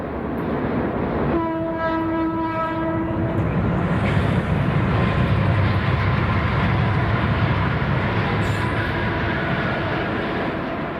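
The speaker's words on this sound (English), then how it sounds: "One last train in the area is at Easton, Pennsylvania, with a mail train crossing the Delaware River heading west." A westbound mail train crosses the Delaware River at Easton, Pennsylvania, with a loud, continuous rumble of rolling wagons and a sustained horn blast sounding over the roar early on.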